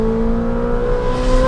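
A straight-piped Ferrari 458 engine holds a loud, steady high rev with a sustained droning tone, close and alone.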